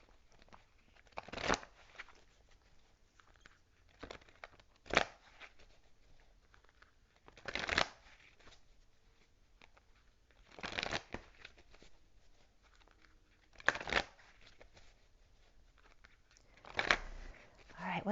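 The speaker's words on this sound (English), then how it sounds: "let's just pull an energy card to make it quick" Tarot cards shuffled by hand in short, quiet bursts of riffling and patter, repeating roughly every three seconds, with faint background noise between them.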